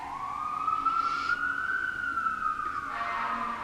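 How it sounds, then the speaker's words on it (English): A wailing siren sweeps up and down steadily, loud and fairly close, holding for several seconds before fading as it moves away. "I'll let the siren go past."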